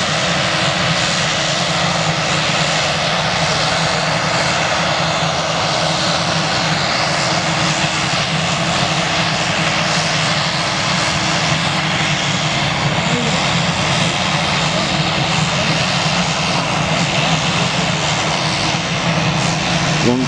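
Steady, loud airliner engine drone from an aircraft taxiing on a runway at an airport, a continuous broad roar holding level for the full stretch with no talk over it.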